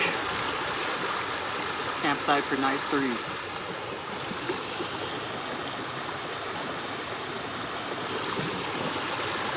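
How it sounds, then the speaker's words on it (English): Tyndall Creek on the John Muir Trail flows in a steady rushing wash of water, close and continuous, with a person speaking briefly over it near the beginning. "Next crossing, Tyndall Creek."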